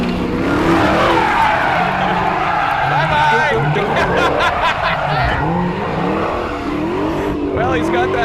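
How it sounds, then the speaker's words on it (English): A Dodge Challenger Hellcat drifts with loud, wavering tire squeal and skidding screech up close, mixed with engine roar; people talk over the sound throughout. "I'm probably not gonna show a whole lot of skill in drifting, but I am gonna give you a lot of tire smoke."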